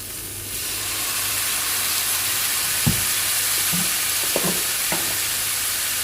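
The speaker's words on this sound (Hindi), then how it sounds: "वेजिटेबल्स को बहुत पकाना नहीं है, सिर्फ सौते ही करना" Mixed vegetables sautéing in a hot pan with soy sauce just added, a steady broad sizzle throughout with a few soft stirring scrapes and knocks, close and fairly loud, no talking.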